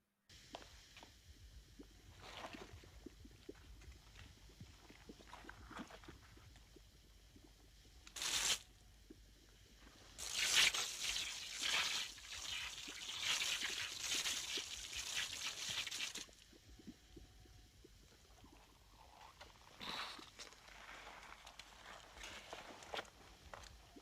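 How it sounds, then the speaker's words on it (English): Bursts of spraying water hiss against a face, washing off mud, a long steady spray in the middle between quieter trickles and scrapes. "spraying the water, clearing off of the mud very, very methodically off the face"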